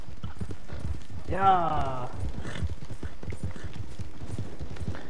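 Horse hooves clip-clop in a steady rhythm in a Western-themed video game, with a brief whinny early on and a voice speaking over the top.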